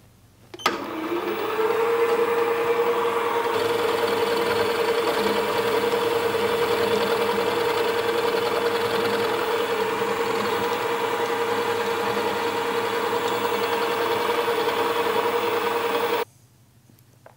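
A machine tool takes a light cut off an aluminium base, giving a steady high whine that starts abruptly, holds evenly for about fifteen seconds, then stops, close and fairly loud with no talk.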